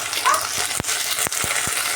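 Ginger paste fries in a pan for beans curry, a close, dense sizzle broken by a few sharp spatula clicks against the pan.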